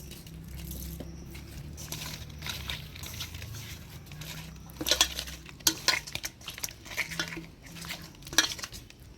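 Fresh rohu fish is rubbed with turmeric and salt by hand in a metal bowl, giving close, wet squishing and scraping with irregular clinks of metal, louder toward the end.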